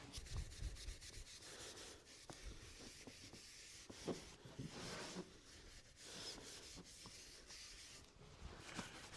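Soft, quiet rubbing of 0000 steel wool over a shellac finish on wood, stroking with the grain in repeated back-and-forth scratchy passes, close up with no voices.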